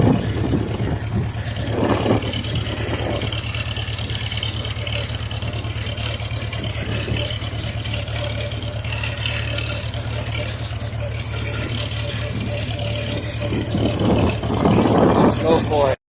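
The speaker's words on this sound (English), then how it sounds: "We'll give it full throttle up this hill here." A 1951 Farmall H tractor engine pulling at full throttle up a hill in fifth gear, a loud, steady low drone that holds constant throughout, with a voice talking over it.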